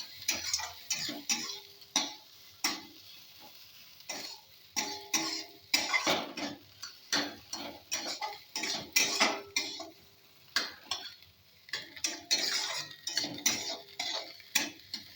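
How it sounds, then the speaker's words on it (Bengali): Rice being dry-fried and stirred in a kadai, with repeated scraping and clinking of a spatula against the metal pan in an uneven rhythm, close and fairly loud, with soft frying underneath. "আমি এটাকে ভালো করে ভেজে নেব।"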